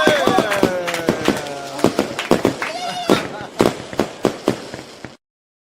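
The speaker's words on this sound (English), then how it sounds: "we got to do fireworks for that" Fireworks sound effect played on a livestream: a rapid, loud series of sharp cracks and pops with whistling streaks, closely spaced, ending abruptly after about five seconds.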